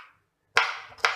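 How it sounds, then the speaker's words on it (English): Two sharp, close knife chops through garlic cloves on a cutting board, coming in quick succession after a brief silence, each a crisp percussive hit. "I'm going to just chop them faster"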